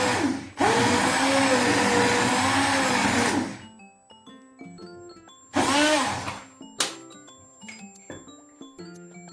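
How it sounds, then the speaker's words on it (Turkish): A blender roars loudly for about three seconds blending red lentil soup, stops, then whirs again in a shorter burst, followed by a few light clinks and taps. "Şimdi blenderdan bir çekim yapacağım."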